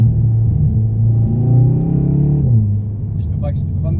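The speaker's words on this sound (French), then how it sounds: "Je peux pas me permettre d'accélérer à fond, sinon elle patine." A Seat Leon Cupra driving on a wet road, its engine note rising in a low steady drone as it pulls under load, then easing off and settling, heard from inside the cabin.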